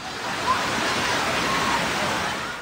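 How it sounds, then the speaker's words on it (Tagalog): Steady, dense rush of fast-moving floodwater surging against a gate, a loud continuous churning roar with no breaks, close by. "sumasalubong sa gate ang malakas na agos ng tubig"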